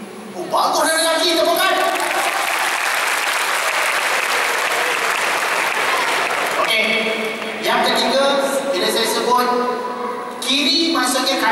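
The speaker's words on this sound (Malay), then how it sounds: "Bagus lelaki, tepukan." An audience breaks into applause after the men are asked to stand, a dense burst of clapping for about six seconds, then a voice speaks over scattered claps and another clapping swell near the end.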